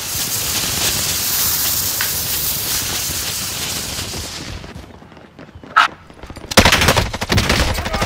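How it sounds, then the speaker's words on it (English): Rapid, sustained gunfire rattles loudly in a Call of Duty: Modern Warfare battle, dense automatic bursts for several seconds, then a brief lull with a single sharp crack before more close, harsh shots erupt. "Enemy shooting."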